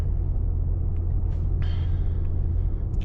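Low steady rumble of a 2024 Mercedes-AMG GT 63 S four-door coupe with a V8 biturbo engine while driving, heard from inside as a constant muffled drone with faint higher hiss.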